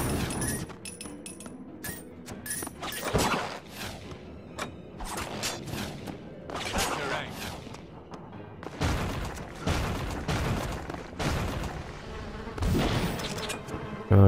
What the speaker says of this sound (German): Diese Wespen.